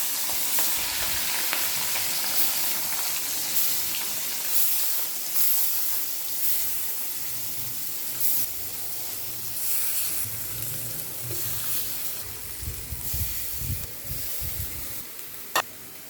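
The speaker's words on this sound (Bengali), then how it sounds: "কড়াইতে তেল দিয়ে কড়াইতেই ভাজবো মাছটা" Fish fries in about three tablespoons of hot oil in a wok with a loud, continuous sizzle and hiss. Spatters and stirring scrapes run throughout, with the crackle swelling toward the end.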